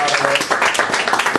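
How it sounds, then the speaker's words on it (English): A house-party audience claps briefly, a dense patter of hands lasting under two seconds, with voices mixed in. "Would y'all clap for him?"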